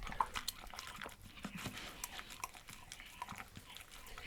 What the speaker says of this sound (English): This is the sound of an English Bull Terrier.